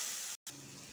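Tomatoes and turmeric-spiced potatoes with salt fry in a pan for a ridge gourd and potato dish, giving a steady broadband sizzle with one brief silent gap in the middle.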